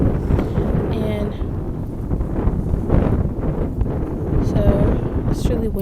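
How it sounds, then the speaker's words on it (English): Wind buffets a microphone outdoors in gusty blasts, a loud low roaring rumble that rises and falls, with faint speech partly buried underneath. "so it's really windy."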